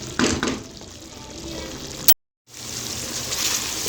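Chicken karahi gravy frying in a pan as a spoon stirs it, a close sizzle with scraping strokes and a brief cut to silence midway.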